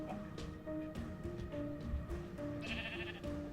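Minecraft sheep bleating in a modded game world, several short wavering bleats in a loose irregular rhythm, clear and close with quiet background.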